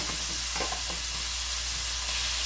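Shrimp sizzle and fry in a pan for shrimp fried rice, a close, steady crackling hiss with a few faint stirring clicks and no voices.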